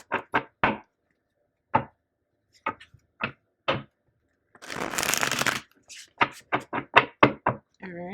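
Tarot cards are tapped and knocked in short separate clicks, then riffled in a dense shuffle lasting about a second, followed by more quick taps and snaps of the deck, close and clear in a quiet room.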